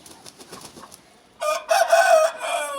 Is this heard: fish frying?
no